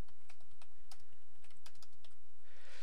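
Rapid keystrokes on a computer keyboard, with a steady run of close, crisp clicks at an uneven rhythm and a brief hiss of background noise toward the end.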